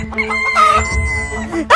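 A rooster crows loudly and close, its long harmonic call held across the clip and rising into a sharper burst at the end, with no talk over it.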